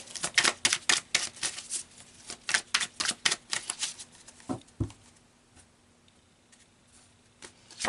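Tarot cards being shuffled and pulled from a deck, a flurry of close, crisp paper flicks and slaps that thins out into a few scattered soft taps.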